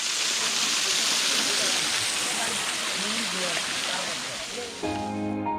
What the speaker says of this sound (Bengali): এই হচ্ছে সেই হিমছড়ি ঝর্ণা